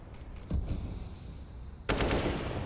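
Gunfire in Counter-Strike: Global Offensive during an ESL Pro League match between Heroic and Complexity: a short crackling burst, then after a brief lull a louder, sharper burst of rapid shots.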